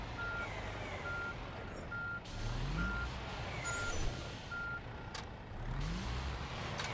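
Truck reversing beeps while parking a car-transporter rig in On The Road Truck Simulator, a steady evenly spaced electronic beep over a low idling diesel engine, with short hissing air-brake bursts.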